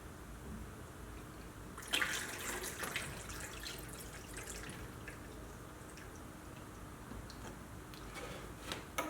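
Water poured by hand into a pyramid-shaped container, a steady quiet trickle and splash that starts abruptly partway in and runs on, alone with no talk.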